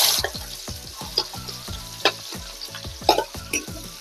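Onion sizzles in hot oil on a village wood-fired stove while being stirred, giving a loud steady frying hiss with rhythmic scraping strokes of the spatula and occasional sharp crackles.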